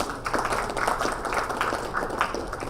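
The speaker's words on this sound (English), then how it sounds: "let's give them a big round of applause" An audience at a real estate awards conclave applauds a panel discussion, with continuous dense clapping that fills the room evenly throughout.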